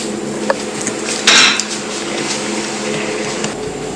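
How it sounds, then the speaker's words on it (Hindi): A paratha lands on a hot tawa griddle in an Indian restaurant kitchen in Patong, Phuket, with a short clattering, hissing burst amid steady kitchen clinks and background din. "और ये आया जी तवे पे"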